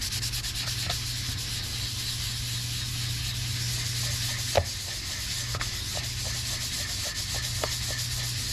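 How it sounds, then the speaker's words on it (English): Sanding block rubbed steadily over the wood body of a Les Paul Custom guitar kit, a continuous close scraping with a few sharper knocks, no talking. "You might be wondering why I was using a sanding block"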